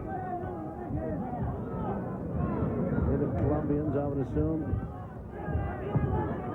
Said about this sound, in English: Very much cheering for their man.